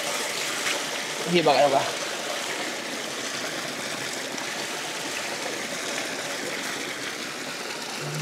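Spring water wells up from underground near the Arabian Sea coast in Mumbai, flowing in a steady, near babble; someone speaks briefly early on over the water.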